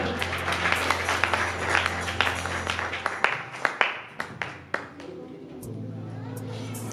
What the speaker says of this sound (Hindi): भाई के लिए स्वागत करेंगे हम तालियों से